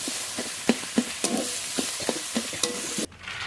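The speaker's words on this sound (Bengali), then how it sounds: "শাক সিদ্ধ হয়ে গেছে, এবার নেড়ে নেড়ে ভেজে নেব শাক" Boiled red amaranth greens are stir-fried in a pan, with a steady sizzle under a series of sharp spatula scrapes and knocks at an uneven rhythm, close and clear, before the sound abruptly drops away at the end.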